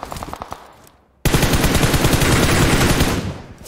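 Automatic rifle fire in the PUBG Mobile battle royale game: a brief faint burst, a pause, then a loud, sustained stream of rapid shots and overlapping gunfire lasting several seconds.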